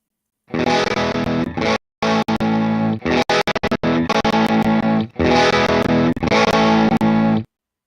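Distorted electric guitar played through a classic tube amp, loud and close, in sustained chords broken by short gaps and a quick choppy burst midway.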